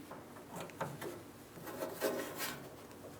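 A jam nut on the rear brake caliper of a 2015-2025 Ford Transit 250 is tightened with a wrench, making faint intermittent metallic scraping and rubbing up close.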